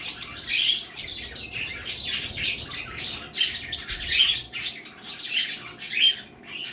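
Several parakeets chirp and tweet continuously in quick, overlapping bursts, lively and fairly close, with no talking.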